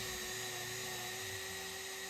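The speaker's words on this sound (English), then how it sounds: "I'm then going to drill out where a 5/8 bolt is going to go" A power drill bores a 5/8-inch bolt hole in a 1997 Ford F-350 cab, whining continuously at a steady high pitch, moderately loud and close, with no pauses and no talking.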